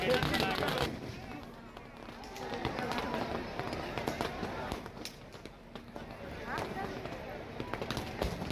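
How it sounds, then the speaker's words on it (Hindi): Fireworks burst over a polo ground at a Dussehra Ravan Dahan celebration, sharp crackling pops and bangs scattered through a noisy crowd, with a reporter speaking over them. "पोलो मैदान में अद्भुत आतिशबाजी भी देखने को मिली है।"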